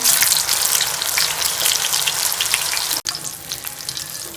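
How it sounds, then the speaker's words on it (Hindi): Aloo chapli kabab fries in oil on a tava griddle, a loud, dense, continuous sizzle and crackle close up, briefly cut near the end before the hiss resumes, with no voices. "इसके ऊपर कबाब जो है वो डाल देंगे और इसे गोल्डन होने तक फ्राई कर लेंगे।"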